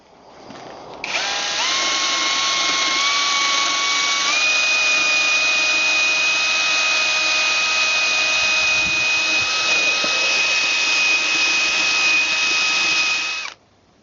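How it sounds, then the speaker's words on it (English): A wire wheel on a power tool cleans the outside surfaces of brake calipers from a 1990 Mercedes-Benz W124 300CE coupe. It spins up with a rising whine, then holds a loud, steady, high-pitched scrubbing hum for about twelve seconds before cutting off. "we can now wire wheel the outside surfaces in preparation for paint"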